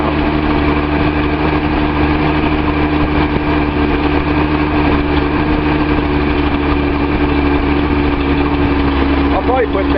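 A Datsun 280Z with an L28 engine idles close by with a slight misfire, giving a loud, steady mechanical drone throughout.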